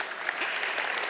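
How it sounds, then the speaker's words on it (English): Applause at an awards banquet for a coach, a brief burst of steady crowd clapping, moderately loud and even throughout. "Coach Jay. Give her a round of applause."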